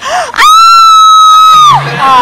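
A loud, sustained, high-pitched scream rings out in a Thai television studio show, rising sharply, holding steady and then falling away, with brief voices just before and after.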